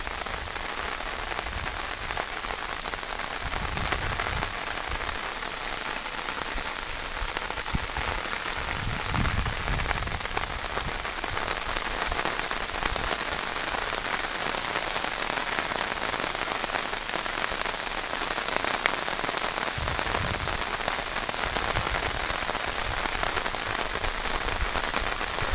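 Heavy rain pours steadily at Bhagamandala near the flooded Triveni Sangam, a dense, continuous hiss with occasional low rumbles and no voices.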